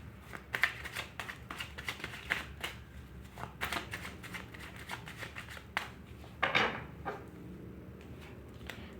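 Tarot cards are shuffled up close in a quiet room, a quick run of crisp riffling flicks and soft slaps repeated irregularly over several seconds, with no talking.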